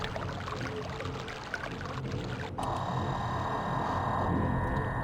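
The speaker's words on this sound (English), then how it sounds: "There we go. Water flowing." Water flows in the 2021 Myst video game, a continuous rushing and pouring wash that shifts to a brighter, steadier stream partway through, with no voices.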